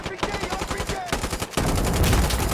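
Rapid video-game gunfire, a close automatic burst of sharp repeated shots that gives way to a denser roar of sustained firing, with a voice faintly mixed in.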